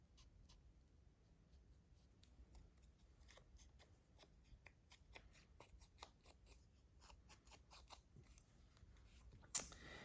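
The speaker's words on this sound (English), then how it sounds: "scissors are right in front of me. Let's trim it down just a little." Quiet, scattered snips and crisp paper cuts of scissors trimming white edges off junk mail paper, soft and close, with one sharper rustle near the end.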